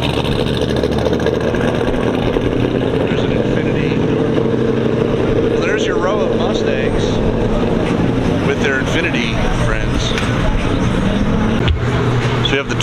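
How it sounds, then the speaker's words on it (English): Exhausted, tuned Ford Mustangs roll into a Cars and Cantina car meet, a steady loud engine rumble running throughout under people talking nearby. "We have the Mustang crew rolling in."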